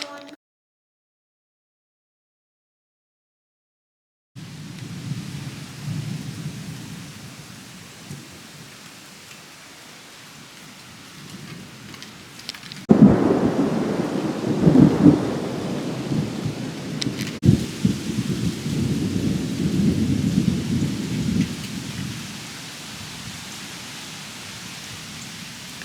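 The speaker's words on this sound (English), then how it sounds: "There's a storm rolling in." A thunderstorm rolls in with steady rain pattering down and deep rumbling thunder. After a few seconds of silence the rain sets in, then a loud nearby thunderclap swells into a long rolling rumble over constant rainfall.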